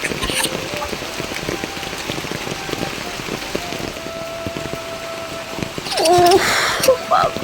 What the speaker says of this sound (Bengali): কি বৃষ্টি নেমেছে দেখো তো